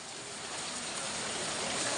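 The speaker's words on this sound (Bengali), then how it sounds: "সেই ঝিরি ঝিরি বৃষ্টি পড়ছে" Light drizzling rain falls as a steady, even hiss that stays constant and moderately quiet throughout, with no voices.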